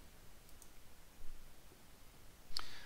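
Quiet computer mouse clicks, a few faint taps followed by one sharper, louder click near the end, with no talk around them.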